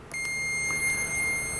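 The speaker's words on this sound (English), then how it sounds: "It's a nice loud beep that you can hear very easily." Crenova 890Z true RMS multimeter in continuity test mode gives a sustained, loud, high-pitched electronic tone that holds steadily for nearly two seconds after a brief click at the start.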